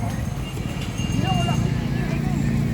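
Horse hooves clip-clop across a city plaza with street food stalls, a continuous close rhythm of hoof strikes under loud crowd chatter and people talking.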